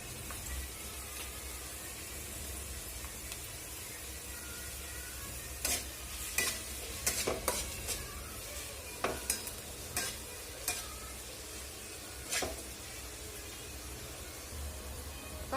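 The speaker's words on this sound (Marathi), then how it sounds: "कांदा आपल्याला परतून घ्यायचा आहे ब्राऊन होईपर्यंत इथं फुल फ्लेमवरती" Onions sauté in a pan over full flame for Kolhapuri misal, a constant soft sizzle under a series of sharp spatula scrapes and taps clustered in the middle, with no voices.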